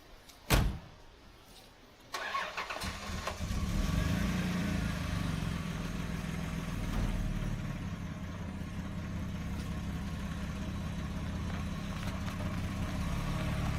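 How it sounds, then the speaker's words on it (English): A 1989 Dodge W100 truck: a sharp door thump, then the engine cranks and catches at about two seconds and settles into a steady, rumbling idle that continues close by for the rest of the clip. "we'll go for a spin in the truck Sarah's going to drive"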